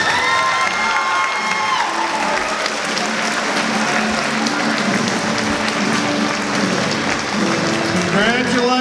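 A loud crowd at Knox Central High School's senior signing day claps and cheers without a break, with whoops and youthful shouts riding over dense, steady applause.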